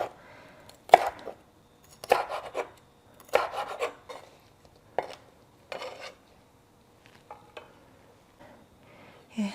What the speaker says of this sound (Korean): 노랑 피망도 썰고요